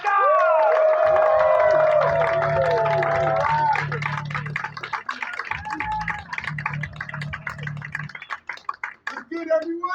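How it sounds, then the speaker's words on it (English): A crowd cheers, whoops and claps for a performer being introduced on stage, loud at first with tonal shouts and a low steady hum, then thinning into scattered claps and voices. "give a round of applause for Randy Shaw!"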